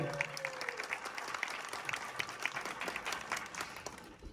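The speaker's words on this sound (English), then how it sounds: "Can we have a round of applause for the cast and crew?" An audience at a Bade Miyan Chote Miyan press conference claps for the cast and crew, a steady patter of many hands rising and falling for a few seconds at moderate distance, tapering at the end.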